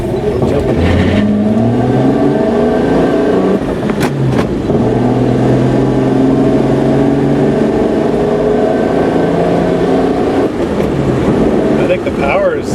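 The smallest six-cylinder engine of an old classic car, bought after sitting unused, revs and rumbles up close, rising and falling in pitch with a loud continuous drone throughout.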